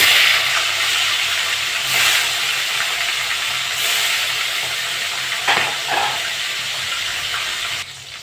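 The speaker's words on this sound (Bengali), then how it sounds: "তেলটা গরম হয়ে গেছে, মাছগুলো ভেজে নেব।" Steady, dense sizzling of tilapia fish frying in hot mustard oil, continuous and close, with a few brief clinks and stirring sounds near the end.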